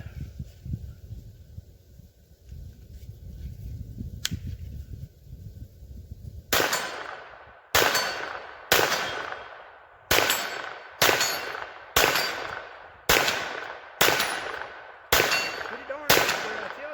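A Gen 2 Kel-Tec Sub2K 9mm carbine fires about ten sharp, loud shots in a measured, evenly spaced series after a stretch of quieter outdoor background.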